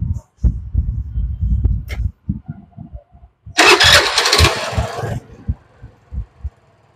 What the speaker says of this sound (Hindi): गाड़ी को स्टार्ट करके दिखाते हैं आपको।